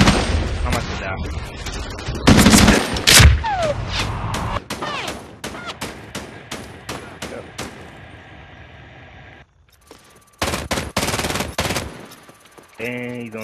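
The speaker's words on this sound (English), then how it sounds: "he's shooting me from the pipe" Rapid bursts of automatic gunfire and single shots crack through a Medal of Honor Warfighter beta multiplayer match, loud and close, with pauses and a brief quiet gap; a player talks over parts of it.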